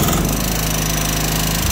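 A John Deere Sabre lawn tractor engine revs up, a loud, steady, rough mechanical drone with a buzzing, rattling low pulse that holds up close.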